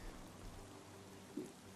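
Soft, steady rain falls in Xenoblade 3, a faint continuous hiss of drops with a low wash underneath, quiet and even throughout.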